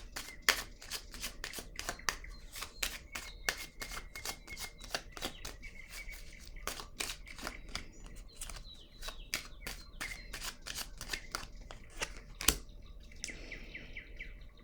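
Tarot cards being shuffled and laid down, with a long run of crisp, evenly spaced riffling snaps close by, and faint bird chirps in the background.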